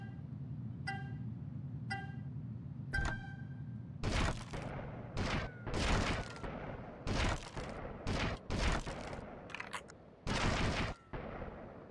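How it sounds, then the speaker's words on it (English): Sniper rifle shots in GTA: Vice City Stories, about eight loud, sharp cracks fired in a quick irregular series after a few short horn-like beeps, with a low engine hum underneath. "Sniper rifle."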